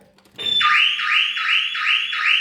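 A loud Audi 80 car alarm starts abruptly and wails in a fast repeating rising sweep, cycling over and over close by.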